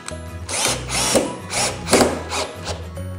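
A Bosch GSR 12V-15 FC cordless multi-function drill runs in repeated short bursts of whirring, pausing and starting again at close range, with no voices.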